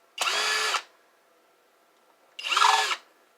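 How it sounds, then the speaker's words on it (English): Power screwdriver whirring in two short bursts, each under a second, taking screws out of a mini keyboard; the bursts are close and clear with quiet between them. "so let's get rid of these screws"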